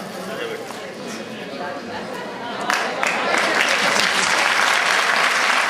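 An audience at a municipal primary-school moral-education event applauds, with the clapping swelling louder partway through and a voice speaking over it.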